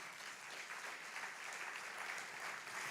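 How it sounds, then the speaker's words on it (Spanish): A church congregation applauds during a sermon, an even, faint wash of many hands clapping at a distance. "Dale un aplauso a Cristo."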